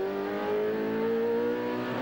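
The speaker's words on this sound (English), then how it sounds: "the leading car coming in for its pit stop" A leading touring car at the 1992 Bathurst 1000 drives into pit lane for its stop, its engine a loud, close, sustained drone with a slowly rising pitch, heard alone.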